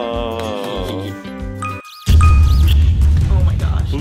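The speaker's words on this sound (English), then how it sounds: "Whose phone was that?" A phone's jingling ringtone or notification chime sounds as a bright, close melodic tone in the opening seconds, then after a short gap loud clattering and commotion follow with people reacting.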